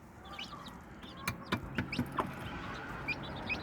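A mother hen gives a series of soft, low clucks close by, teaching blue chicks to feed, while they peep faintly around her.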